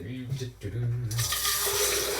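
Cold water runs from a tap into a bowl of hot papier-mâché mix, a steady broadband rush that starts about a second in and continues to the end, with a voice talking briefly before it.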